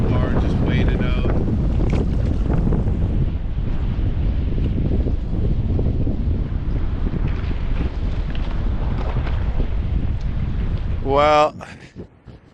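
Wind buffets a microphone on a river gravel bar above a tight canyon on the Peel River in the Yukon wilderness, a continuous low roaring rush that cuts off abruptly near the end.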